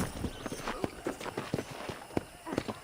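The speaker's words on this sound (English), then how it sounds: "let's see if you can still ride a horse" Hoofbeats of a horse at a quick gait in the Red Dead Redemption game, rhythmic thudding clip-clop close by, with a voice speaking over them.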